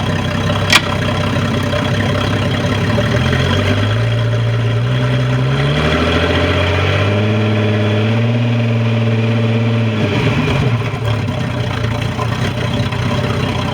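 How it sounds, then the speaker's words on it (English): A Sea Ray boat engine that is taking on water idles steadily, then is put in gear and throttled. Its drone climbs in stepped rises of pitch before dropping back to a steady idle, loud and continuous, with no talk. "Pop it in gear, give her some gas."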